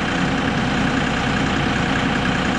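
A boat engine idles while it warms up, producing a loud, constant low rumble with no change in pitch or rhythm over the short stretch, close by and with no talk over it.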